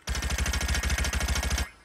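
Rapid automatic gunfire from a video game weapon skin, a tight burst of about twenty evenly spaced, punchy shots, loud and close, with no talking over it.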